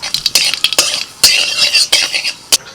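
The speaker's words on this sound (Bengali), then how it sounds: "সর্ষেগুলো ফাটতে শুরু করে দিয়েছে" Black mustard seeds and a dried red chili crackling in a little hot oil in a kadai, with sharp, irregular pops and spits, some loud and close, over a hiss of frying; no voices.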